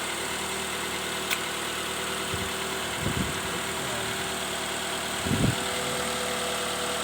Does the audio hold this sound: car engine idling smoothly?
yes